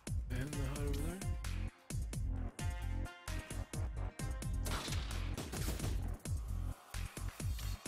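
Units in the Frozen Synapse video game fire in rapid bursts, clustered staccato gunshots repeating steadily over several seconds at moderate volume.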